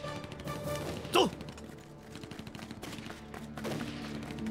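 Gunfire in a war film battle scene, Eighth Route Army forces ambushing Japanese troops: a sharp loud shot near the start over a dense, continuous bed of distant rattling fire and rumble, with a swell of noise toward the end.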